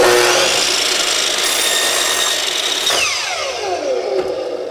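A saw blade cuts through a wooden board, giving a loud continuous whining buzz through most of the clip, then the pitch drops as the blade spins down toward the end, with no talking.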